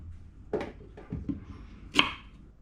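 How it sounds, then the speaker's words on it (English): Knife chopping through the stem and then the tip of a green banana on a board: three or four sharp, close chops spaced about half a second apart, with the final cut the loudest, in an otherwise quiet kitchen. "chop off the stem, and then I cut the tip off"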